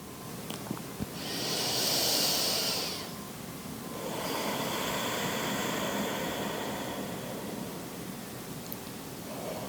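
Slow breathing during a guided meditation: one long, airy inhalation followed by a longer, softer exhalation, close and fairly quiet with no talk.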